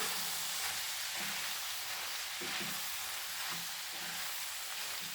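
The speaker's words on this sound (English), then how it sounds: "Mix this nicely." Goan-style dry beef keema frying in a pan, giving off a soft, continuous sizzling hiss with faint low scrapes as it is stirred, quiet and steady throughout without any talking.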